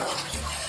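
Salted kimchi vegetables rinsed in a bowl of water, a brief steady splashing and sloshing wash, close and alone.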